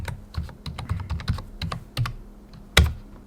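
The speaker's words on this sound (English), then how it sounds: "So type in a password," Password being typed on a computer keyboard, a quick run of close, crisp key clicks in an uneven rhythm, pausing briefly before a final louder keystroke, with no talking.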